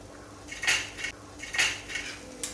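A metal spoon stirring cooked pasta in a pot, making a few close, clinking and scraping knocks against the pot in quick, separate bursts.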